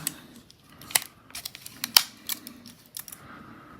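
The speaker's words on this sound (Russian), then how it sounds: "И вот теперь, если мы откроем плоскогубцы" The pliers of a Roxon Phantom S802 multitool are opened: a handful of sharp metallic clicks and snaps, close and fairly quiet, spaced irregularly over a few seconds with light handling rustle between them.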